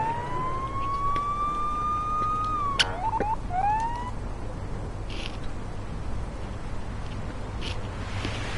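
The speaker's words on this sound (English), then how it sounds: "Showing up with sirens on, all blasting." A police car siren in a patrol-officer simulator video game wails in a rising, sustained tone, then breaks into short yelps and chirps over a steady low engine rumble, with quieter background noise afterward.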